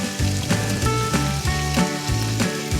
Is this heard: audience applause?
no